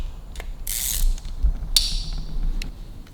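A socket ratchet tightening bolts on a Kawasaki KH750 engine, with short clicking ratchet strokes and metallic creaks close up, and a brief sharp scrape among the clicks.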